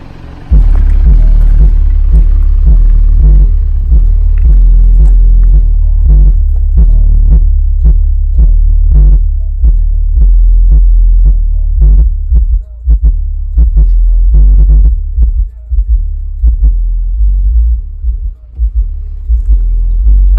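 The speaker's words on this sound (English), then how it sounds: "I'm about to show y'all a sound clip of the speakers bumping and show you how everything works" Subwoofer speakers installed in a Hyundai Sonata pounding deep bass inside the cabin, a loud continuous low boom with rhythmic thumping beats throughout, heard from within the car.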